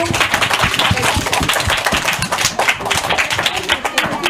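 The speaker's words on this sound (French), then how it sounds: "Applaudissements d'abord, les garçons." A group of boys in a studio audience at a Christmas television show claps, giving loud, close, somewhat irregular clapping with a rhythmic feel, mixed with background voices.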